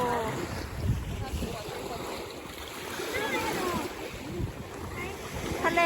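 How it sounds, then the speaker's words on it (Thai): Strong freshwater waves roll onto the small-pebble shore of Lake Garda at Riva del Garda, a churning, surging wash mixed with gusty wind buffeting the microphone and faint voices in the background. "คลื่นก็แรงอยู่นะคะคลื่นก็แรงอยู่"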